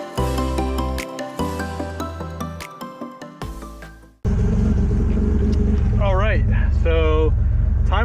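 A Buick Grand National V6 engine is worked on with Megasquirt. It cranks in a choppy stop-start pattern, then catches and settles into a loud, steady running rumble, with voices over it.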